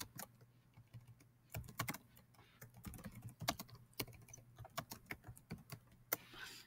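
Computer keyboard keys tapped at an uneven pace, quiet and close, with sharper heavier strokes like the Enter key standing out among the lighter clicks.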